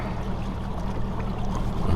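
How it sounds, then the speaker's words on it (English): A fishing boat's engine runs steadily on a lake, a continuous low rumble with water wash, close and fairly loud throughout with no talking. "Okay, and I'll turn off the engine."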